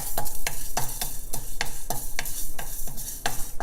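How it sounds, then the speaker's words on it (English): Half a teaspoon of raw rice is dry-roasted in a pan over low heat, stirred in brisk, regular scraping strokes roughly every third of a second, with a light sizzle and rattle of grains up close. "Next, I'm going to roast half a teaspoon of rice."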